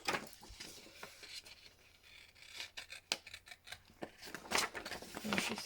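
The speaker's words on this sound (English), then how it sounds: "I might as well do it all with the scissors" Scissors snip paper corners for a grungy soft-spine junk journal, making a series of quiet, close, crisp cuts and rustles that quicken and grow denser toward the end.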